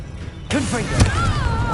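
A Confringo fire spell is cast in Hogwarts Legacy, a sharp burst with a crackling whoosh after a short quiet lead-in, followed by a bright rising magical tone, with faint game sound effects around it.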